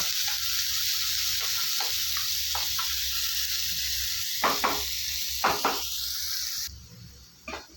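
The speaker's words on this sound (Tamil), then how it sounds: "இது வெங்காயம் நல்லா வதங்கட்டும்" Oil sizzles steadily as onions sauté in a pan while making dosa curry, with occasional scraping stir strokes rising over the constant hiss before a short pause near the end.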